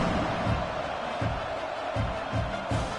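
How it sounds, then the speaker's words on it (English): A crowd buzzes steadily in a college football video game after a score, a dense continuous roar with faint rhythmic thumps underneath. "this crowd is buzzing after that last score"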